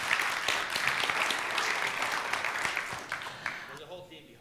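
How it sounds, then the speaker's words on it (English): Applause for a presenter from a conference audience, a dense burst of clapping that stays strong for several seconds and then thins out and fades, with some speech rising underneath as it dies. "can we please give Mike a big round of applause?"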